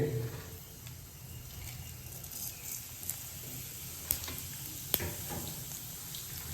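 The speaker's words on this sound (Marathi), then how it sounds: "आपलं तेल तापत आलंय तर आपण त्याच्यात टाकणार आहे थोडी मोहरी टाकायची आपल्याला" Mustard seeds and cumin frying in hot oil for okra bhaji, a steady soft sizzle with a few faint pops and crackles throughout, fairly quiet and close.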